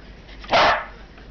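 A dog gives one sharp, loud bark close by during playtime with children at home, a short burst standing out against a quiet, steady background with no talking.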